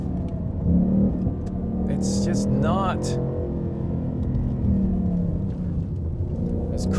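A Ford Mustang EcoBoost hums steadily while driving, a low engine drone and road rumble heard from inside the cabin under people talking.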